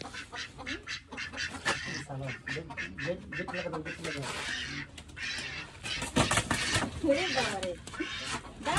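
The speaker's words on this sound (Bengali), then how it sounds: "ভালো বড় হাঁসটাকে দারুণ হাঁসটা।" Ducks quack repeatedly at close range, their calls mixed with people talking over them throughout.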